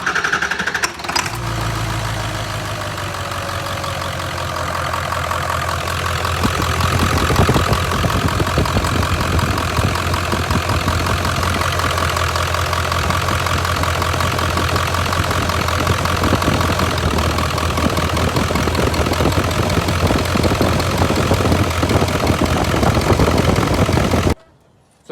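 A Ford 7.3 Powerstroke diesel Super Duty truck engine idles steadily for the whole stretch, a loud, even low rumble with a rough knocking chug underneath.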